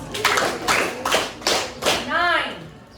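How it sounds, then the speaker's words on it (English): A classroom of children claps in unison five times, sharp evenly spaced claps, followed by a voice with a rising, sung tone at the end. "Can we give them 5 claps?"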